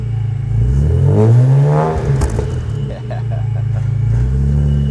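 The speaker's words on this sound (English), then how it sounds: "do have a rather nice sounding exhaust note" A supercharged BMW E46 M3 engine idles with a deep, steady burbling exhaust note, briefly swelling in a blip of revs before settling back to a smooth idle close by.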